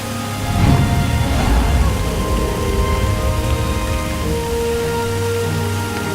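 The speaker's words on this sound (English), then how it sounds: "the rain fell constantly." Rain falling steadily, a dense, even hiss of drops that holds constant throughout, with a faint low rumble of thunder early on and no voices.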